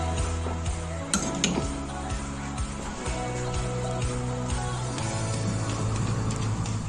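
A homemade burger patty sizzles in a hot frying pan, a steady dense hiss with occasional clinks and scrapes of utensils throughout.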